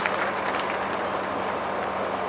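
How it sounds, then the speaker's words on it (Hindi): A hall audience at a Hindi-speaking inauguration and dedication ceremony claps for a birthday celebration, giving dense, steady applause that holds at an even level from start to finish. "विशेष ताली बजा करके बर्थडे के सेलिब्रेशन के लिए बधाई दे"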